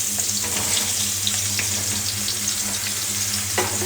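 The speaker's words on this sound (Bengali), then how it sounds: "খুব অল্প পরিমাণে তেল দিয়েছি, তারপরে এই মাশরুমটা এখন একটু তেলে ভেজে নেব।" Mushrooms frying in a small amount of oil in a pan, a steady close hiss and crackle of sizzling with a constant low hum underneath, no talking.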